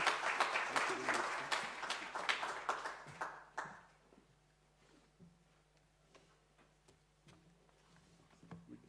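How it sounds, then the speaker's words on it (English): Brief audience applause for Mrs. Jarvis at an international higher education teaching conference, with dense clapping over the first three seconds. It then fades to a quiet room with a few isolated claps and soft taps. "another quick round of applause for Mrs. Jarvis"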